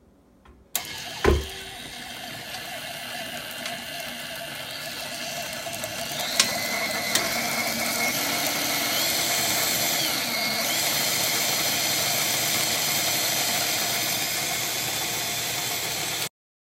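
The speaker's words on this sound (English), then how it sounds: "Now that we have our vegetable shortening and our butter in our mixer, we are now going to blend it up until it is nice and creamy." An electric stand mixer blends vegetable shortening and butter, starting with a click and a clatter, then a steady loud mechanical whir with a faint rhythmic grind that runs until it stops abruptly.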